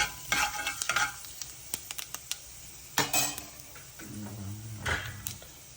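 Fennel seeds frying in hot oil while being stirred, with a soft ongoing sizzle under repeated scraping clinks of a metal spoon against the pan, close and irregular.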